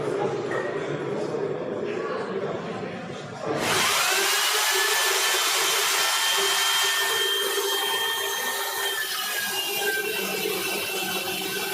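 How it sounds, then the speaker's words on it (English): A robot-controlled chainsaw cuts through wood while building stools and a table, its loud, steady whine starting abruptly after a quieter stretch and holding continuously with rising and falling pitch, with voices faintly underneath. "this robot-controlled chainsaw was building two stools and a table"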